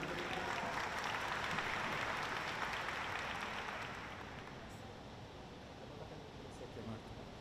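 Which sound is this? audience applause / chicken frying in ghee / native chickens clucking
audience applause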